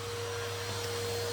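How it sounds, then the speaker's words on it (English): A vacuum cleaner drones steadily while going over chairs during a kitchen cleaning session, a constant, even motor hum with no talking and no break. "let's give the chairs a bit of a vacuum"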